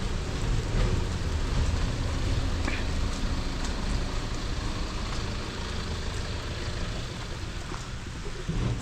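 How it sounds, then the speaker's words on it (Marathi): Steady rain hisses continuously with a dense, even wash of noise and a low rumble underneath. "आता सध्या पाणी पाऊस चालूच आहे"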